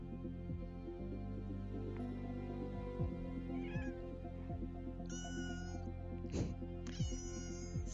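A cat meows a few times, short nearby calls, over a steady background of game music and ambient sound with no talking.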